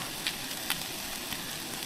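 Sliced bacon fries in a pan at an outdoor wild camp, a steady close sizzle with a few sharp crackles and pops.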